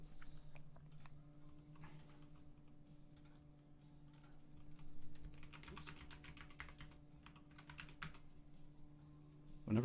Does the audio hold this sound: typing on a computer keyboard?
yes